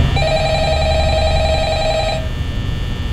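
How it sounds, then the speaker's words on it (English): Phone rings in the Five Nights at Freddy's game, a loud, close steady electronic ring tone that continues for about two seconds and then stops, leaving a low background hum. "Time to pick up the phone,"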